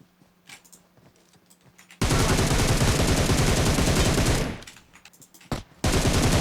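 Sustained automatic gunfire in the mobile battle royale game PUBG Mobile, a loud rapid burst lasting a couple of seconds, then quieter scattered shots and another burst starting at the end.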